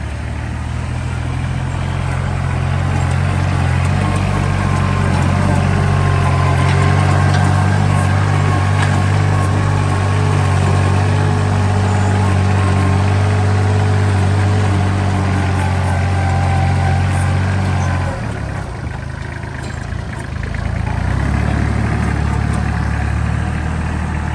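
A used 2009 Kubota L2808 tractor engine runs steadily close by, a loud, even low diesel drone with a brief dip in revs near the end before settling back.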